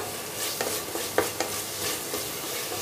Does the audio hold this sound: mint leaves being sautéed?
yes